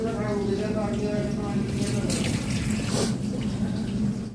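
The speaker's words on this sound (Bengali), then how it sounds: "এখানে মাংসটা ধুয়ে রাখছি ধুয়ে রাখছি মাংসটা" Tap water runs steadily while raw meat is rinsed in a kitchen sink, a continuous splashing wash that holds for the whole stretch beneath a low background hum.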